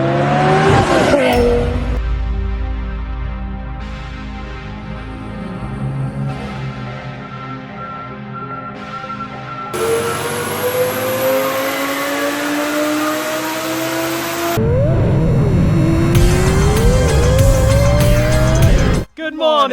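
Twin-turbo Lamborghini Gallardo on a drive, loud engine revving through rising and falling pitches with gear shifts and sharp acceleration bursts, heard close and continuous.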